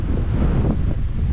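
Strong wind gusts across a mountain road between Dingalan, Aurora and General Nakar, Quezon, a loud, steady roaring buffet of wind that fills the whole clip with no speech.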